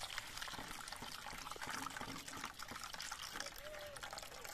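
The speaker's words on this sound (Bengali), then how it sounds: "এবার এই নারকেলটার মধ্যে আমি 500 গ্রামের মতো জল দিচ্ছি।" Water is poured into finely ground coconut paste, giving a soft, quiet trickle and splash close by, with faint background noise.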